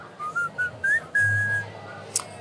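An advertising jingle whistled as a short melody of bright, sliding notes, with a final held tone, alone and clear at close range.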